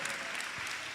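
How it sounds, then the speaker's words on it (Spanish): A church congregation at a missionary service claps together in a steady, dense burst of applause that holds at even strength throughout, with no voices standing out. "Denle una ofrenda de palmas al Señor"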